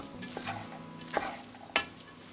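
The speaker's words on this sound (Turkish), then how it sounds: "Onlarla birlikte de şöyle bir karıştırıyorum." Food being stirred in a pan for a chicken-stuffed melon dish, with soft scraping and light sizzling and two sharper clinks of the utensil against the pan. The sounds are close and fairly quiet, and no one speaks.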